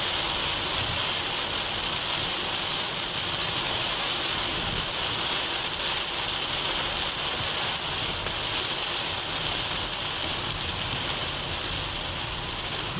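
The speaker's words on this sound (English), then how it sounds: "rains and downpours." Steady, dense hiss of heavy rain pouring down without letup, a broad wash of noise with no talking.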